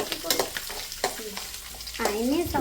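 Soybean roast with ginger being stirred in a hot pan, a few scraping spatula strokes over a soft sizzle, ending in a brief squeaky scrape, close and alone.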